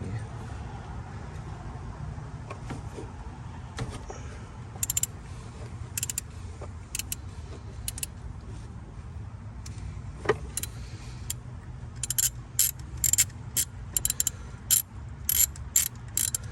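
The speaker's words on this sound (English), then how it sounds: "I'm going to be taking the socket here and taking it out." A ratchet socket wrench clicks in quick bursts while removing a spark plug from a Jeep Wrangler TJ engine, close and crisp over a low steady background hum, with scattered metallic taps and the clicking growing busier toward the end.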